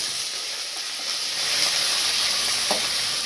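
Green chilies and onion frying in hot oil with cinnamon, cloves and cardamom for tomato rice, a steady close sizzle with a brief louder crackle near the end.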